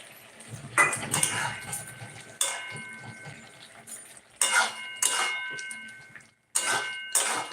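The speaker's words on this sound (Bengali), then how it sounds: "পোস্ত দিয়ে নাড়াচাড়া করে নিচ্ছি" Ridge gourd being stirred with poppy seed paste in a pan, a utensil scraping and clinking against the metal in several separate bursts of clatter with quiet pauses between them.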